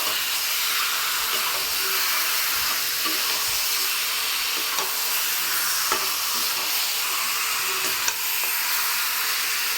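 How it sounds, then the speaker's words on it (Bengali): Mango dahi chicken being stirred in a pan over a steady, close sizzle of frying, with faint scrapes and knocks throughout and no voices. "এবার এটাকে আমাকে ভালো করে নাড়তে হবে যাতে তলায় একদম লেগে না যায়।"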